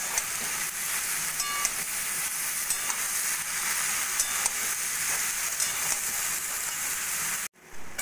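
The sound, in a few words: boiled jackfruit being sautéed with spices in a pan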